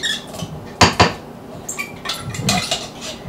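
Tomato sauce tipped from a container into a small saucepan in a home kitchen, a few sharp clanks and knocks of metal and cookware with soft scraping between them, close and brief.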